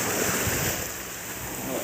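Philippine sea waves wash in a steady roar with wind buffeting the microphone, a continuous broad rush without distinct breaks.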